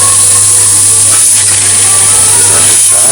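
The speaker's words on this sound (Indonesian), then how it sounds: "ini pipa ini kita buka teman-teman. Nah, biarkan anginnya keluar ya." Gas hissing out of an opened compression pipe on a four-door refrigerator, a loud, steady, close rushing hiss that continues unbroken.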